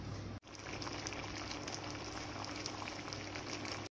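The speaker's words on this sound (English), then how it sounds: "I'm gonna leave this here now just to simmer down for a minute and two" Steamed fish with okra simmering in a pot on the stove, a steady soft bubbling and faint crackle close by, continuous and quiet, with no talk.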